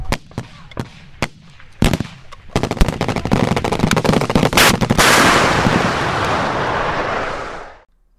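Rapid gunfire rings out in the ArmA 3 military simulation game: a few spaced single shots, then dense fast bursts that merge into a loud, continuous roar before cutting off abruptly.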